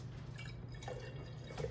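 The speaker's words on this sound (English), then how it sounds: "we're going to put some of our distilled water in here" Distilled water pours and trickles into a container for a zinc plating experiment, a faint, steady liquid splash over a low background hum.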